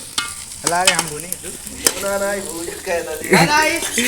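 Onions frying and being stirred in a pan over a dung-cake fired clay stove outdoors, a steady sizzle under loud talking throughout.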